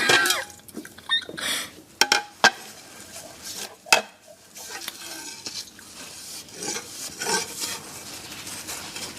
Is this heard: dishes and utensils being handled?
yes